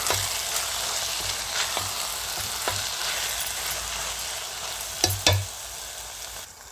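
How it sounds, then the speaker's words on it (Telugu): Soaked shrimp peels sizzle in a hot pan while being stirred, a continuous close frying hiss with light periodic scraping and a few louder clatters toward the end, with no talking. "ఇలా కలుపుకోవాలి రొయ్యపట్టు వేసుకుని."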